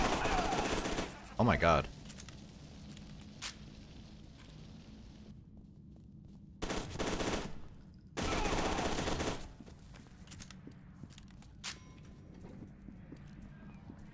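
Submachine gun fire in the shooter game F.E.A.R. 2: Project Origin comes in several loud, sustained bursts of rapid shots separated by quieter gaps of ambient game sound, with a brief spoken exclamation in between.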